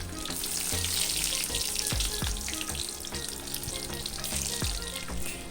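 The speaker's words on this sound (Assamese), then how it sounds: "গৰম হ'বলৈ লৈছে আৰু তাতে অকণমান পিঁয়াজ, নহৰু 3 ফুটা আৰু শুকান জলকীয়া 2টা দি পিনি ধুনীয়াকৈ তেল মাৰি দিম।" Onion, garlic and two dried red chillies fry in hot mustard oil, a close, constant bubbling sizzle broken by several sharp taps of a spoon or pan.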